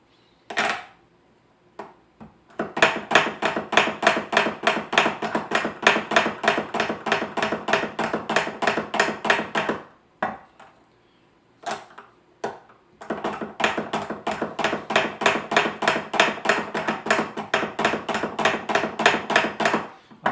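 Reed profiling machine blade scraping a cane strip in rapid, evenly spaced strokes that come in two long runs separated by a short pause, close and crisp.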